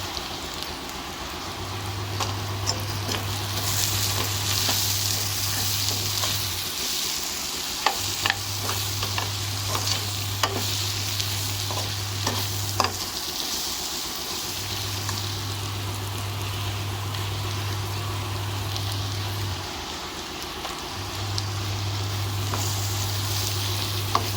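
Turmeric and spices tempering in hot oil for bhindi (okra) sabzi, a continuous soft sizzle with occasional stirring clicks and a low hum that cycles on and off in the background.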